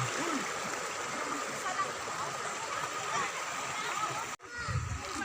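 Steady rushing water of a small stream in the Al-Bahir River flowing continuously nearby, a broad, even wash of sound, briefly interrupted near the end.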